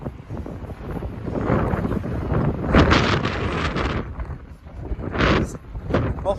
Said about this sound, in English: as long as you guys can hear me over the wind